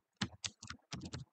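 Fingers type on a computer keyboard in a few quick bursts of distinct close key clicks separated by short pauses.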